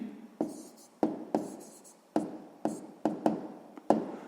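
A pen taps and scratches on paper in a series of about ten short, irregular strokes and clicks, close and quiet, while an answer to a sixth-grade maths exercise is written down.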